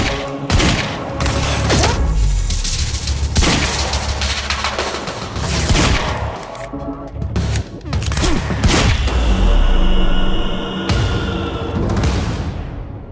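Guards firing heavy pistols in the Quantum Break video game, a loud, dense barrage of repeated shots and impacts with crashes, sustained across the stretch with little speech.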